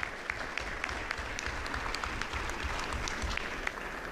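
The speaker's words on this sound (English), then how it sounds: "Give yourselves a round of applause for your attendance and great questions for today" An audience at a local federal election candidates' debate at the Wasaga Beach Recplex claps in a steady, even round of applause, moderately quiet, with individual claps popping out of the wash.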